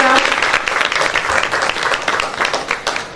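Applause and cheering erupt from a youth assembly gathering, loud, close clapping with crowd voices rising and falling in uneven bursts across the short stretch.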